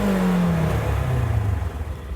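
The 1000cc engine of a Polaris RZR Trail S 1000 Premium side-by-side revs up and then settles. It sounds close and steady, with a rising then falling whine over a low rumble.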